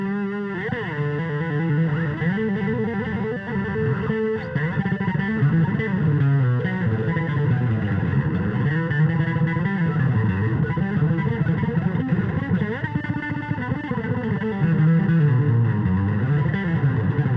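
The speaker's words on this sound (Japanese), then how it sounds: "激歪み" A bass guitar played through MXR effect pedals set for heavy distortion, with a thick, buzzing, fuzzy tone running continuously through a melodic line with sliding notes, loud and alone.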